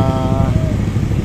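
Dense motor vehicle traffic jam in Chinatown, with a motorcycle engine running steadily close by under the broad rumble of congested traffic.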